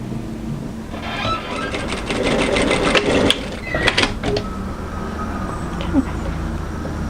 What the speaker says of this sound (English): if you want to do that cover stitching effect, now do it